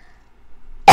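A single sharp cough comes in close and loud at the very end, after near silence.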